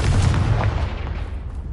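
Confringo fire spell explosion in the Hogwarts Legacy video game: a loud, deep booming blast that rumbles heavily at first, then slowly fades over a couple of seconds, with no talking.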